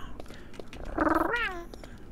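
A person imitates a cat meowing during a Minecraft session, giving one drawn-out, close, fairly loud meow that bends downward at the end, against low background noise.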